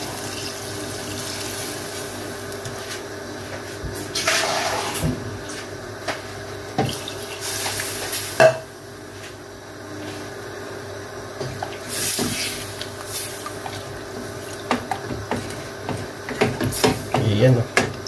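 Water pours and splashes into a cooking pot of Filipino sinampalukang palaka, frog stew with long beans and chili leaves, in irregular bursts, while a voice talks intermittently.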